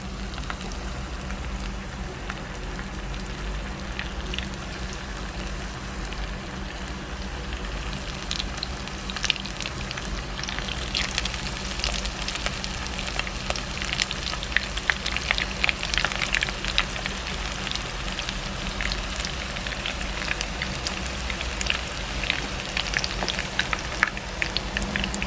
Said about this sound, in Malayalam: ഇനി നമുക്ക് ഇതിലേക്ക് ഈ ചെമ്മീൻ ഒന്ന് ഇട്ട് കൊടുക്കാം